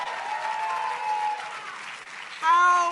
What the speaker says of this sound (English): Can we give our Speaker Emerita, Nancy Pelosi, one more round of applause?